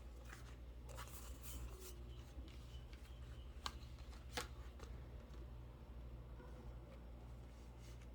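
A deck of oracle cards is shuffled for a reading, faint soft riffling and slipping of cards over a low steady hum, with a couple of small clicks and no speech.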